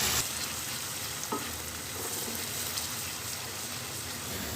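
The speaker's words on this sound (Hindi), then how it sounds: "अब प्याज को हम तब तक फ्राई करेंगे जब ये गोल्डन होना शुरू हो जाएगी" Onions sizzle and crackle steadily in hot oil in a pan, starting to turn golden, a continuous close frying hiss with no voices.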